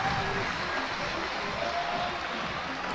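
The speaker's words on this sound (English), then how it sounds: "Standing O from the crowd for Katie Lamb." Indoor crowd at a national sport climbing championship finals gives a standing ovation for climber Katie Lamb, a steady dense wash of applause and cheering for the full three seconds, with faint voices mixed in.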